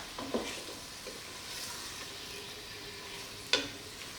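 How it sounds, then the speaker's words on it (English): Vegetables glistening in olive oil sizzle softly in a pan while a utensil stirs them, with a couple of sharp scrapes near the start and a clear clack near the end. "And give it another stir."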